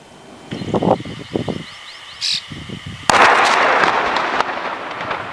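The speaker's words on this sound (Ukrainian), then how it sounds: "Тут регулярно проходять планові підриви вибухонебезпечних предметів." Several sharp blasts and cracks from a controlled detonation of explosive ordnance during demining in Mykolaiv region, Ukraine, followed by a loud, sustained rumbling roar that slowly fades, with scattered rustling and a brief high whine earlier.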